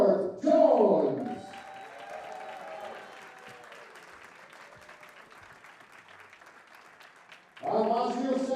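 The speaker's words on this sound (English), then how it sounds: "a massive round of applause as he leads the stage for Australia's Howard Jones" Sustained crowd applause at the WDF Lakeside World Darts Championship as a player walks on, a steady dense wash of clapping running under an announcer's voice at the start and end.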